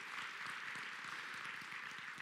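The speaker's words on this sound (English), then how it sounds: "let's give them a round of applause" An audience at an Easter beef cattle show applauds the exhibitors, a steady, even wash of many hands clapping, distant and soft with no voices on top.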